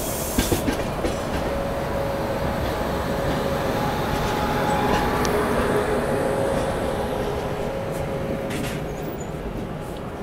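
Okha Express train reversing at a station, a loud continuous rumble of rolling rail wagons with faint clickety-clack and a thin wheel squeal running through, steady for the whole stretch with no talking.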